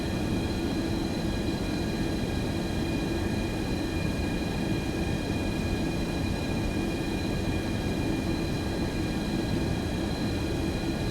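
A FlyJSim Boeing 732 twinjet taxis in the X-Plane 11 flight simulator, its engines giving a steady, even whine with a constant rumble underneath. The sound holds unchanged throughout, with no talk.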